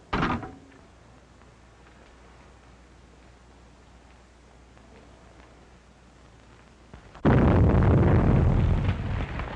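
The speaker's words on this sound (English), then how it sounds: "Explosion in 93 Madeira Drive." An explosion sound effect from a 1938 radio crime drama bursts in briefly at the start, then after a quiet stretch a much louder blast erupts and roars on with heavy rumble to the end.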